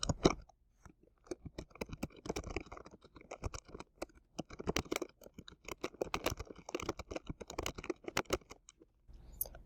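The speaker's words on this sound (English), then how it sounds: "I will first type out my call to action" Typing on a computer keyboard: rapid, uneven clicking keystrokes in quick bursts with brief pauses, close and moderately quiet, with no talk.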